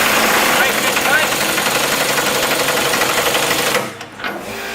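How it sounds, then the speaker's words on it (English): Air wrench tightening fuel tank bolts on a Chevy: a loud, continuous rattling whir runs steadily for several seconds, then cuts off abruptly, followed by quieter clatter. "we're going to tighten this down with an air wrench"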